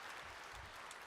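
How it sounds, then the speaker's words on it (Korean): Church congregation applauding during a sermon, a brief burst of dense, fairly faint clapping from a large crowd heard at a distance. "박수해 주세요"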